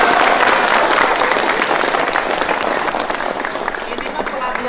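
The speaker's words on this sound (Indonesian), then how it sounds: "ayo tepuk tangan" Audience applause at a basic leadership training event, dense and steady clapping throughout that fades slightly toward the end, with voices mixed in.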